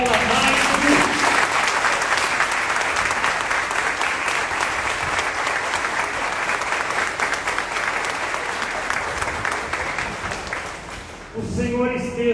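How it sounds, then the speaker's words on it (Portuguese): Congregation at a Catholic Mass applauding, a dense sustained burst of clapping that fades toward the end as a voice begins speaking. "Por favor, uma salva de palmas para Paula, Maicon."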